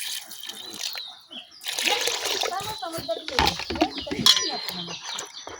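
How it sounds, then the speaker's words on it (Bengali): Water splashes and trickles as it is poured into a cooking pot of lentil seeds in a village kitchen, a close, steady pour with soft voices in the background. "এখন দিয়ে দিচ্ছি পরিমাণ মতো পানি"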